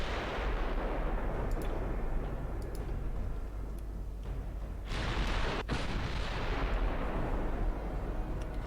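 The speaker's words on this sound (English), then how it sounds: "Amagi is firing" Naval artillery from the Japanese battleship Amagi in Ultimate Admiral Dreadnoughts, a continuous rumbling roar of heavy gunfire with repeated booms and one sharp crack partway through.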